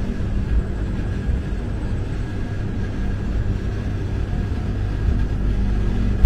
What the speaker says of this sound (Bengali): জলপাইগুড়ি রোড এক্সপ্রেস ট্রেন যাত্রা শুরু করলো জলপাইগুড়ি রোড স্টেশন থেকে